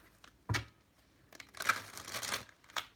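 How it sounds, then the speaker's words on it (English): Tarot cards are shuffled by hand in a few short bursts of soft papery riffling and slapping, quiet and close, separated by near silence. "I'm going to shuffle 3 times this way"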